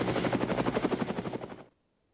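Helicopter sound effect with fast, even rotor thumps pulsing loudly and close for about a second and a half before cutting off abruptly into silence.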